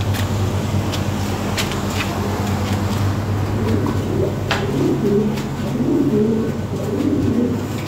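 Lahori pigeons coo repeatedly in low, soft murmurs over a constant droning hum, with occasional faint clicks in the background.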